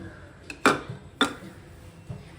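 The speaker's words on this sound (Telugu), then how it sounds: "స్టవ్ మీద ఒక బాండీ పెట్టుకుని జీడిపప్పు కిస్మిస్ వేయించుకోవాలండి" Pan set down on a stove before frying cashews and raisins, a few sharp metallic clanks and knocks, close but fairly quiet, separated by short pauses.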